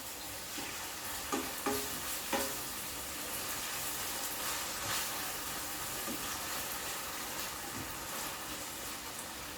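Onions, pepper, garlic and tomatoes sautéed soft in a pot are stirred with a few scraping knocks early on, over a steady close sizzle and hiss that runs throughout.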